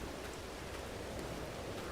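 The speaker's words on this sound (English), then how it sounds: "the bad part is, it's still raining." Steady rain falling in Farming Simulator 22 on an October day, a soft, even hiss of drops with no breaks, faint and continuous throughout with no one talking.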